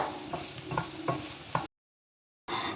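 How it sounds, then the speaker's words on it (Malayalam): Oil sizzles steadily as a utensil stirs small shallots and sliced onion frying in the pan with a few soft scraping strokes, then the sound cuts out briefly before the frying resumes. "ഇതൊന്ന് ഇളക്കിയിട്ട് ഇതിലോട്ട് 10 ചെറിയുള്ളി ചേർക്കാം."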